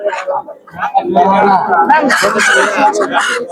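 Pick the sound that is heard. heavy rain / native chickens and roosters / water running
native chickens and roosters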